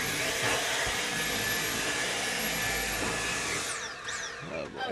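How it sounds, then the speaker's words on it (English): A vacuum cleaner runs steadily inside a van, a loud continuous whine and roar that holds for several seconds before its pitch drops as it winds down near the end. "we got the vacuum in the van"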